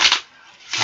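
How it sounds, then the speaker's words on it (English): A deck of playing cards being shuffled up close, two quick riffling bursts separated by a brief pause, loud and crisp with no voices over it. "Give the deck a nice little shuffle."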